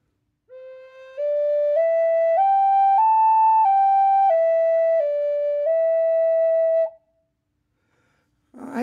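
A Native American flute plays a simple, untongued sequence of sustained pitches that step up one by one and then back down. The notes are smooth, clear and connected, followed by silence.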